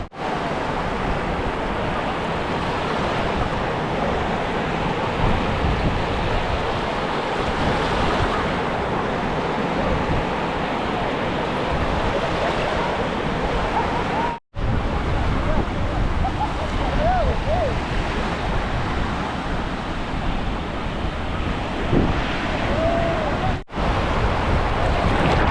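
Ocean waves on a Florida beach wash in as a steady, loud broadband surf roar. Wind noise runs through it and the sound cuts out briefly twice.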